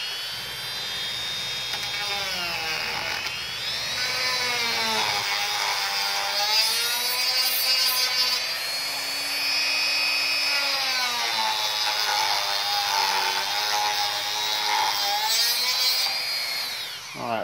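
A high-pitched power tool whines steadily for about seventeen seconds while smoothing a coping cut on wooden shoe molding for window trim, its pitch rising and dipping with the load, loud and close with no talk.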